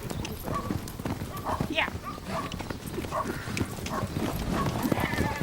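Arabian horses clip-clop on the ground at Bedouin-tradition stables near Al-Watba, Abu Dhabi, a steady run of hoof beats heard under someone narrating throughout.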